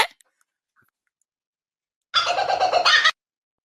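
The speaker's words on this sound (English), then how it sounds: "Kookaburra." A kookaburra calls once in a single loud, raspy burst lasting about a second, alone after a stretch of near silence.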